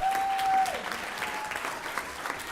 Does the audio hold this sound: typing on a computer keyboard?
no